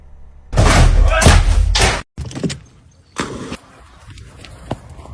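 A door is opened, a loud thudding and rattling burst followed by a few quieter knocks and clunks that fade into a near-silent room.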